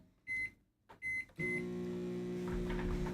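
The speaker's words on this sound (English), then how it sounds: "today we are putting chicken fried rice into the microwave." A microwave oven heating chicken fried rice gives a pair of short beeps as buttons are pressed, then starts up into a steady, close, droning hum with no one speaking.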